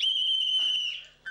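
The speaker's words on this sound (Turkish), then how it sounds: "Ne ya, düdüklü tencere tabii. İşte düdüğü burada." A pressure cooker whistle gives a loud, shrill, steady tone for about a second, then wavers and fades before a short second chirp.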